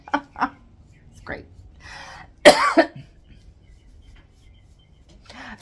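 A person gives a short, soft cough, a couple of brief throaty bursts followed by a louder rasping throat-clear, in a quiet room with faint background rustle.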